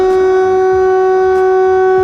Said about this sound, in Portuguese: não lembro de ter tocado essa sirene